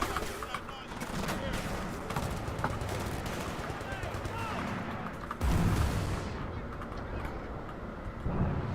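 A grenade bursts in the shooter game Battlefield Bad Company 2, a heavy deep blast midway amid ongoing dense gunfire, with someone talking over the battle noise.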